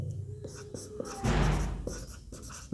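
Pen scratching out a maths solution by hand in a Class 10 height-and-distance lesson, with short strokes and taps, a longer scribble in the middle, under a quiet spoken explanation.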